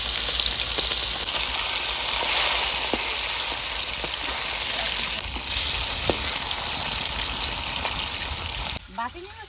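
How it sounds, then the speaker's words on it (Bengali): Pieces of a large rohu fish fry in hot oil, a close, even hiss and crackle that runs without pause and stops abruptly near the end. "এখনো অনেকগুলো আছে ভাজতে"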